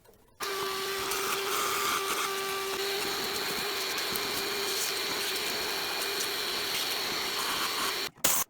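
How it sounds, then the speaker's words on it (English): A shop vac roars steadily near a 1961 GMC K1500 engine, vacuuming debris from around the spark plugs: a loud continuous motor whine with a sustained pitch that cuts off abruptly near the end. "we've got to get the shop vac in here and get rid of all this crap"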